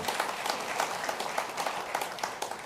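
Audience applause at a policing summit addressed by President Cyril Ramaphosa, a brief steady patter of many hands clapping, moderately distant and fairly quiet.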